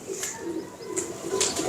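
A domestic flying pigeon coos nearby in soft, repeated low rolls, punctuated by a few sharp higher chirps from other birds.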